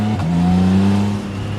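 A 2024 Triumph Trident 660 motorcycle on Road 6 tyres, braking into a corner, its engine holding a steady close droning tone that shifts pitch briefly, with no talk.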